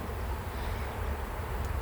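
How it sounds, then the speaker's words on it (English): Low steady drone of guard bees crowding near the entrance of a beehive on a smoked front, a soft continuous hum with no voices over it. "I got these guard bees down by my knees."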